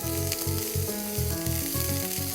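Finely chopped green onion hits hot oil, giving a steady loud sizzle with a regular pulsing rhythm of stirring strokes, no voices over it.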